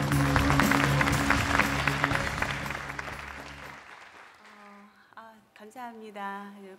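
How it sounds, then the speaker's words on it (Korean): A live audience gives strong applause at a Korean music awards ceremony for a jazz and crossover prize. The dense clapping runs for about four seconds, then dies away, and a voice begins speaking over the quiet hall. "다시 한번 박수를 부탁드립니다."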